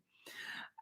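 A single short sneeze from an adult, close and fairly soft, with a brief voiced catch at the very end.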